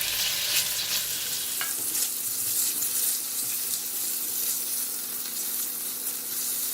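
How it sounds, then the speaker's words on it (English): Tofu sears in hot oil in a frying pan for a tofu curry, giving a steady, close broadband sizzle with occasional stirring clatter and no talking. "We were just going to sear the tofu for a bit."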